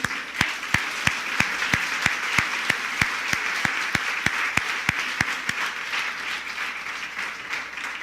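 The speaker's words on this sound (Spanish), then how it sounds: "Denles un fuerte aplauso, por favor" Congregation in a church applauding steadily, dense clapping with a few sharper claps standing out, sustained and fairly close, no voices.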